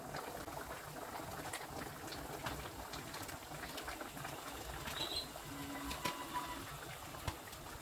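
A pot of kilanga fish curry simmers quietly on a medium flame, soft continuous bubbling with small pops and crackles, faint and close.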